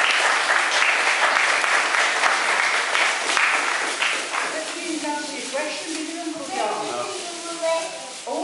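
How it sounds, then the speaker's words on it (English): Clapping from a church congregation at a Mothering Sunday gathering, a dense, steady patter for about four seconds that thins and fades as a voice begins talking over it. "We should give all a clap now because we're very nice."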